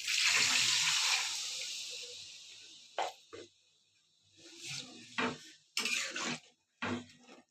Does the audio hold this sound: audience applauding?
no